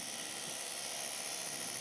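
A flapper peening motor spins at 4200 RPM, giving a steady, even whirring hiss and hum that holds unchanged for the whole moment, with no voices.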